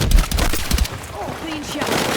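Rapid bursts of automatic gunfire ring out during a night raid in the Battlefield 6 campaign, loud and sharp at first, then giving way to shouted soldier voices.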